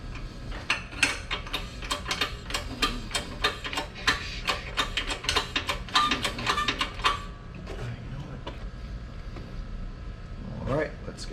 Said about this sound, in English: Now this is a large air over hydraulic 50-ton press, but I'm going to actually do it manually